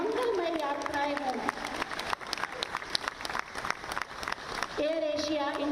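A crowd at an airline flight inauguration ceremony in Lucknow claps in a sustained burst of applause, while a tonal voice or music sounds over the start and end of the clapping.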